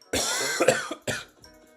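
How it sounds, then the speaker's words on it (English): Several harsh coughs in quick bursts, close and loud, the last one trailing off weaker. "Man, you're really coughing a lot."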